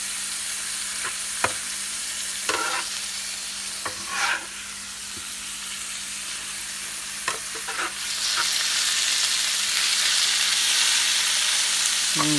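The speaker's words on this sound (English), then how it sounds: "Gotta love that sizzle." Philly cheesesteak filling frying in a pan, a steady sizzle with occasional stirring clatters that swells louder and brighter for the last few seconds, no talking.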